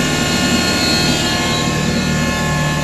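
Two fuel pumps whine steadily inside a Rocket Bunny Ford Escort van, a loud, constant droning hum with layered high tones that fills the cabin without break.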